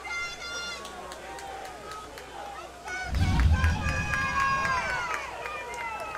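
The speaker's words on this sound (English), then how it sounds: "The Crusader crowd picking it up here a little bit, cheering on their team." A football crowd at a high school game between Cedar Cliff and Bishop McDevitt swells into cheering and roaring partway through, rising above a steady murmur of the stands with a close voice talking over it.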